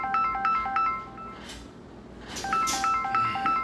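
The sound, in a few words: phone notification sound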